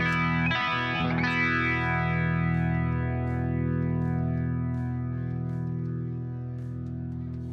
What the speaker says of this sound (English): The Bogner.